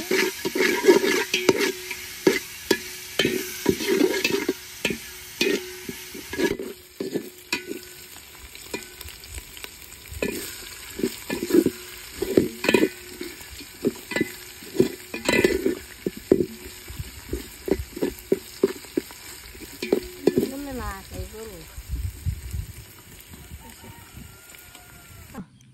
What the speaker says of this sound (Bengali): পেঁয়াজ রসুন ভালোভাবে ভেজে নিয়েছি